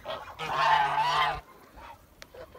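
Geese honk loudly and harshly at a turkey in a farmyard, one long sustained honking call up close, followed by quieter background noise and a faint later squawk.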